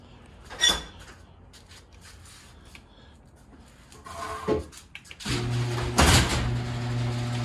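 A lock being worked and a sticking door being pulled open, with a couple of sharp knocks, then a louder scraping, rattling slide as the jamming door gives way, all close by.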